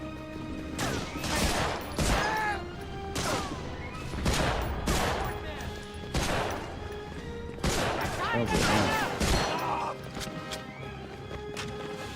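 Gunfire from the PS2 shooter Medal of Honor Frontline, repeated bursts of loud shots over about twelve seconds, overlapping and uneven, with game music and talk mixed underneath.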